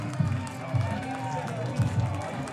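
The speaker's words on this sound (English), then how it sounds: "You hear the crowd as that really got him going with that swing." A baseball crowd at a Goldpanners game roars after a home run, a steady murmur and cheer heard faintly behind a commentator talking over it.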